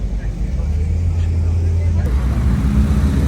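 Porsche GT4 RS passing on the road to the Nürburgring, a steady loud engine and road roar held close throughout, with a brief shift in tone partway through as traffic noise continues.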